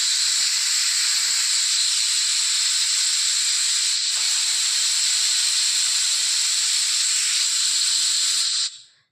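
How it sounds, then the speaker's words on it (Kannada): A pressure cooker on the stove while tur bean sambar cooks lets out a loud, steady hiss of escaping steam that runs continuously for several seconds, then cuts off abruptly near the end. "ಕುಕ್ಕರ್ ಕೂಡ ಕೂಗಿ ಈಗ ಆರಿದೆ"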